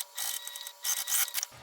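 A sewing machine back stitches a seam on a stocking made of Minky fabric, giving short, close mechanical whirring bursts separated by brief pauses.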